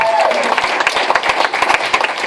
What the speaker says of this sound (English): I would like to give a round of applause to said best friend over here